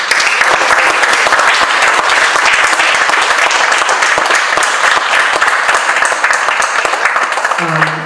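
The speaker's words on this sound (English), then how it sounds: "our curator for the day, Adey, who deserves a massive applause." Loud, sustained audience applause at a wildlife conservation technology event, dense clapping from a large crowd close by, holding steady for several seconds.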